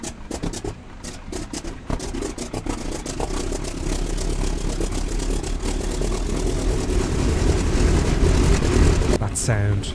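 A Junkers Ju 52 radial engine cranks and catches in Flight Simulator 2020, with a rapid clattering starter rhythm building into a loud, rough, steady engine drone and a voice speaking briefly over it.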